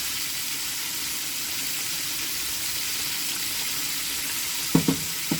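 Kingfish pieces fry in hot oil in a pan, a steady loud hiss of sizzling with no pauses, ending with a few sharp clinks of a utensil against the pan.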